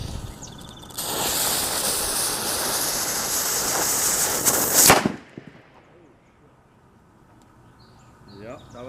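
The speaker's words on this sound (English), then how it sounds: "So there we got our nice little explosion in the can." A mini .22 caliber cannon fires a steel BB into a can full of water, heard as a sustained loud roaring blast that ends in a sharp crack, then drops to near quiet.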